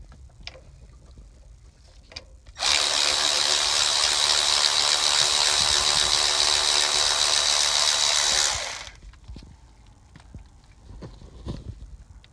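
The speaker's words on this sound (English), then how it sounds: "Remove the bolts from the rear end of the mid-pipe." Bolts coming off the rear end of a Corvette C7 Stingray exhaust mid-pipe, most likely with an air tool, give a loud, steady, continuous mechanical whirr of about six seconds, with quieter clicks before and after.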